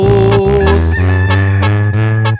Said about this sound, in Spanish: Ya cantan los gallos, ya está amaneciendo